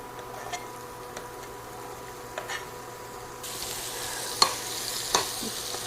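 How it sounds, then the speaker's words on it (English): Diced onions hitting hot bacon grease in a pan, a soft sizzle that swells after a quiet start, with a few light clinks and stirring scrapes nearby. "saute down your onions for about 3 minutes until they're nice and soft"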